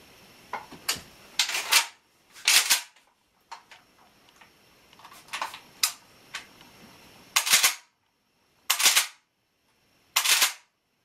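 A Mossberg 500 shotgun is fired at a range in several sharp, loud blasts spaced a second or more apart, mixed with quieter clicks and handling sounds between the shots.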